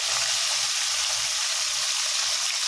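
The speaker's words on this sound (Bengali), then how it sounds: "দেখো মাছগুলো ভেজে নিচ্ছি" Fish sizzles in hot oil in a frying pan with a steady, loud, dense hiss that carries on without a break. Nobody speaks.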